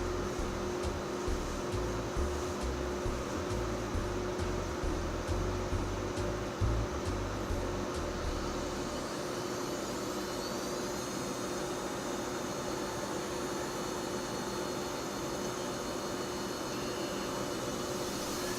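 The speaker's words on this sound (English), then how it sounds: "let's listen for some hard drive noises here" Old server hard drives whir and hum steadily while the machine boots, a continuous mechanical drone with a fan-like hiss, rumbling and fluttering unevenly through the first half before settling into an even whine.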